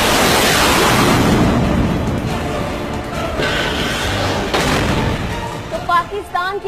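Missile launch roar, a loud sustained rushing blast from the start that slowly fades, with a few short clicks and noises near the end.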